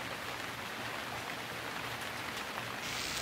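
Steady rain hisses evenly throughout, a dense wash of falling drops with no voices, in a video game.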